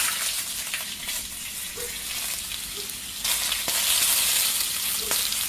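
Small chopped shallots fry in oil with fennel for a crab pepper masala. The sizzle is close and continuous and grows louder partway through, with a few faint clinks of stirring and no speech.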